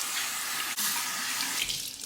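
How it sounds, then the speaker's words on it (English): Water runs steadily from a tap for a face rinse in a continuous splashing hiss, close by, with a brief break partway through. "Hot and cold water rinse of the face"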